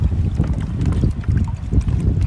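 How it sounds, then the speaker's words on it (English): Strong wind gusts across open water on a Louisiana fishing trip, buffeting the microphone in low rumbling bursts with faint water sloshing, close and continuous. "Just way too windy out here."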